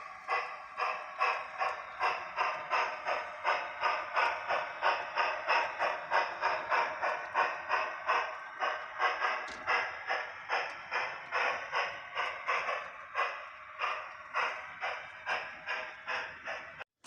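A G scale model train running down a 4.5% grade clatters along the track in a steady rhythmic pattern of regular clicks, continuing evenly for a long stretch with a faint mechanical whir.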